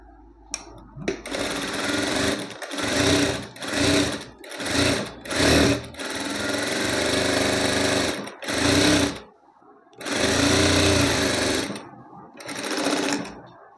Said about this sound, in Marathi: एका साईडला आपल्याला शिलाई मारून घ्यायची आहे, अशी दुमडून घ्यायची आहे पट्टी.